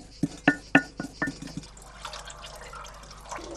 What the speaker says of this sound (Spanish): Ahora estoy virtiendo la cochinilla que previamente he machacado y he dejado al remojo unas cuantas horas